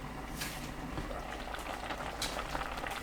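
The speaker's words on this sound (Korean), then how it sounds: "다시마 우린물 400ml 넣고 뚜껑 닫아 센 불로 끓입니다." A covered pot of sweet potato and aged kimchi stew with chili peppers and kelp broth bubbles over high heat, giving a steady, soft rolling boil with faint pops throughout and no talking.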